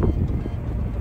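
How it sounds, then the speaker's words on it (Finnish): A short burst of strong wind gusting in Finland's Pallas-Yllästunturi National Park roars and rumbles against the microphone, loud and buffeting. "välillä on tosi kovia tuulenpuskia"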